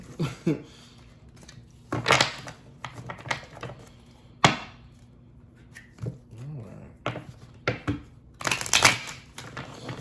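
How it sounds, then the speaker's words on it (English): Close, crisp riffles and taps of tarot cards being shuffled in uneven bursts, with short gaps and light handling noises between. "That was a weird shuffle."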